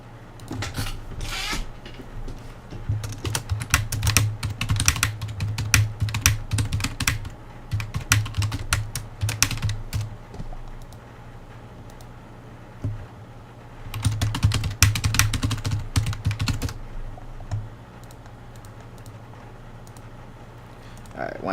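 Bursts of rapid clicking keystrokes on a computer keyboard as a message is typed, close and fairly loud, separated by pauses, over a low background hum.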